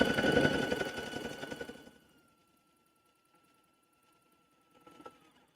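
A sewing machine runs stitching a t-shirt hem, loud and close for about two seconds, then stops, leaving near silence with a faint brief bump later.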